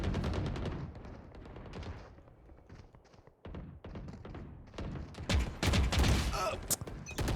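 Rapid bursts of video game gunfire crackle in clusters, loud and dense, with heavier volleys near the end and a voice talking briefly over the shooting.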